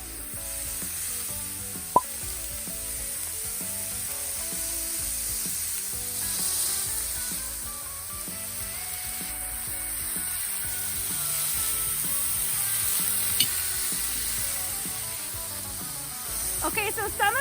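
Ground beef smash burgers lightly seasoned with salt and pepper sizzle steadily on a homemade outdoor flat top griddle, a constant close hiss with a sharp tap near the start and sputtering pops toward the end.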